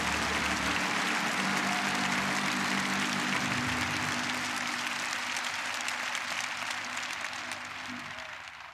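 A church congregation applauds loudly and continuously, the dense clapping sustained throughout and tapering slightly toward the end, with a low hum underneath.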